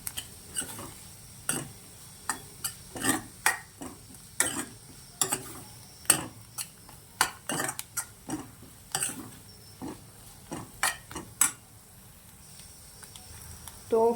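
Repeated soft scraping and tapping of a spoon stirring green chili chutney with coriander in a cooking pan, an irregular series of clicks and knocks close by.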